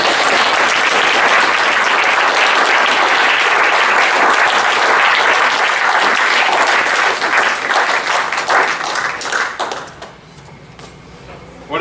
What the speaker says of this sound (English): one more round of applause for all of our readers